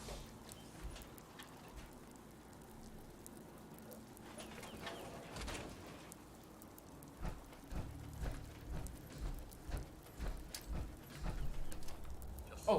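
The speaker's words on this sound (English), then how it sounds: "How wonderful it'd be to get out of this infernal rain" Rain falling in the video game Fallout 4: a faint, steady patter and hiss with scattered drips and soft low rumbles, growing somewhat louder near the end.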